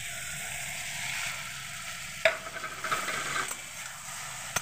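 Small ash gourd pieces fry in hot oil with well-cooked spices. A steady sizzle is joined partway through by a sharp crackle as the pieces go in, followed by stirring and scraping.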